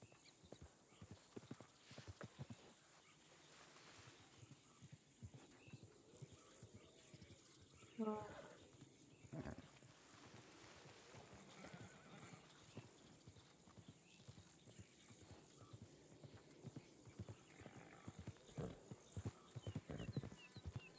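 Horse hooves clip-clop at a walking pace through much of the stretch in a WildRP roleplay video game, mixed with scattered game sounds and brief bursts of other noise.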